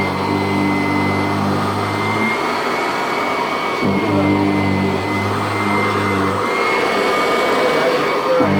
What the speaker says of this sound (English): I spend the next half hour vacuuming with this powerful extraction device, dry extraction, backwards and forwards across the bed with triple UVC lights